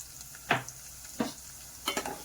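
Mustard seeds and cumin fry in hot oil in a pan, with a few sharp spatter and stirring bursts over a soft, steady sizzling hiss.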